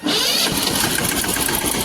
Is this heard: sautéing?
no